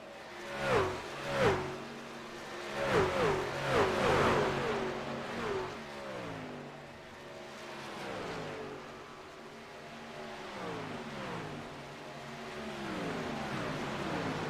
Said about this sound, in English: Sawyer tucks in behind Dargan just ahead of McCauley, who's now going to be linked up bumper to bumper.